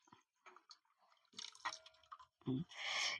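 Water left from boiling raw mangoes being poured into a cooking pot, a few soft clinks and drips and then a short, splashy pour at the end, quiet overall.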